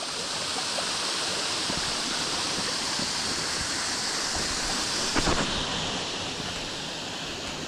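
Water rushes steadily past a forest path's edge in Craik Forest, a broad, constant stream roar close by that fills the whole stretch, with one brief knock partway through.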